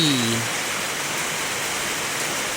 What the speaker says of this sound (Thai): ผมแต่ฝนตกแรงนะครับ